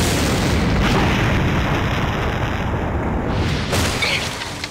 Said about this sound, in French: Pour info, ça c'était une vraie explosion, pas du CGI.